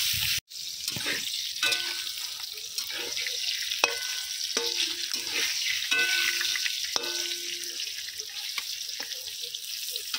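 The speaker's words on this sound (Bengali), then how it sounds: "আমি তেলের মধ্যে পটলটা দিয়ে দেবো। পটলগুলো খুব ভালো করে লাল লাল করে ভেজে নেব।" Pointed gourd (potol) pieces frying in oil for a mustard potol dish, a soft continuous sizzle with intermittent stirring and scraping clatter throughout, fairly quiet and close, no talk.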